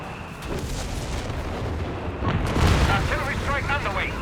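Artillery strike explosions in Company of Heroes 3 during a large tank battle, a dense rumbling barrage of booms that swells louder midway, with a voice speaking over the din.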